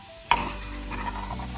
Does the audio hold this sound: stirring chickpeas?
yes